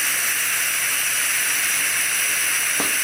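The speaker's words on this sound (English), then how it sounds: "It'll flush the bag with a nitrogen gas." A VakRapid 2.5 horizontal band sealer flushes a bag with nitrogen gas through its nozzle, a steady loud hiss that runs unbroken, ending with a brief click near the end.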